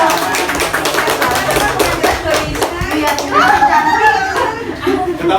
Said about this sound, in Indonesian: Udah, boleh tepuk tangan yang meriah.